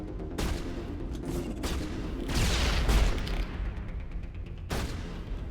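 Several grenade explosions in Mass Effect 1 Legendary Edition, booming blasts with gunfire in a rapid combat sequence: an opening bang, a broad rolling burst in the middle, then one more sharp boom near the end.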